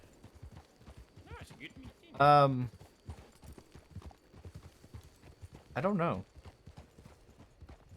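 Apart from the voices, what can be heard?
horse hooves clip-clopping in Red Dead online roleplay video game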